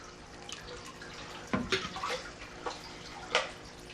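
Water is poured from a cup into a container of live minnows at a farm pond, giving a few uneven splashes and trickles against a quiet background.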